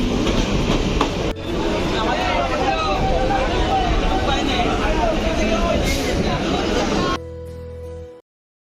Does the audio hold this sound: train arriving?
yes